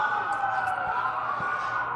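Police sirens wail through a city street in the video game Watch Dogs, a steady high tone with a mid-distance hum and no speech over it.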